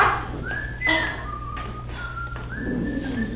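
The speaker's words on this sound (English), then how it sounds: "Do you stop whistling?" Someone whistles a wavering tune of sustained notes, close and clear, over a low steady hum.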